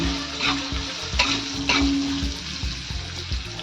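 Asafoetida stirred into hot oil in a pan while cooking a tomato vegetable dish, a steady close sizzle and frying hiss with soft scraping stir strokes, no voices.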